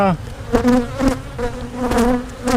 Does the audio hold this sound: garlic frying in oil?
no